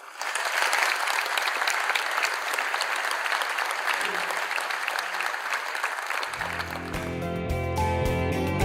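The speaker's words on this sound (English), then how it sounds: "So just a round of applause for everyone." Audience applause at a Victorian manufacturing showcase in October 2014: sustained, dense clapping from a large crowd fills the room, then gives way to loud music that takes over near the end.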